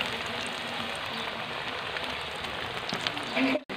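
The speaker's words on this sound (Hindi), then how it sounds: "घी में फ्राई करेंगे" Potato donuts frying in ghee over a medium flame give a steady, dense crackling sizzle close by, continuous for a few seconds before a brief clatter and cut at the end.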